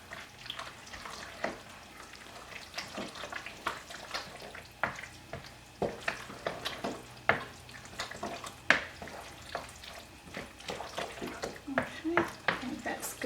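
A spoon stirring shredded cheese into macaroni tuna casserole in a bowl, with repeated scraping clicks and soft sticky squelches in an irregular rhythm, close and fairly quiet.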